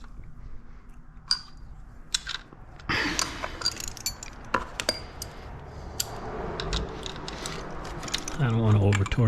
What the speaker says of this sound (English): I don't want to over torque it because that's like a little aluminum bolt I put there in between to sandwich it